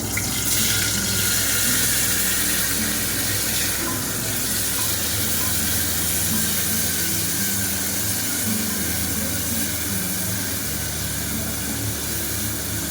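Chopped onion and capsicum fry in a pan, producing a loud, even hiss of sizzling that continues unbroken for the whole stretch, with no talking.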